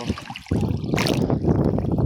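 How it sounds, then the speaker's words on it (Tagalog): Strong sea waves at a beach wash and churn around a swimmer, a close, loud rush of sloshing water with a sudden surge midway and continuous turbulent splashing. "Lakas ng alon, guys."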